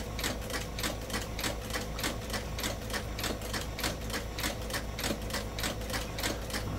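Sewing machine stitching a leather acorn and oak leaf belt, a fast, even mechanical rattle of needle strokes repeating steadily throughout, close and alone.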